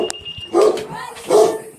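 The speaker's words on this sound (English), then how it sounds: "I hear a dog." A dog barks twice, two short mid-pitched woofs about three-quarters of a second apart, fairly close, with no talk over them.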